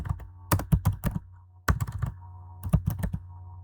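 Python code is typed on a computer keyboard in three short bursts of crisp, close keystrokes separated by pauses, over a faint low hum.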